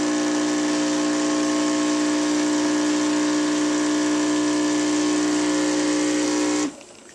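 A Dolce Gusto capsule coffee machine pumps milk with a loud, steady humming drone that holds for several seconds before cutting off abruptly, leaving only a faint residual hiss.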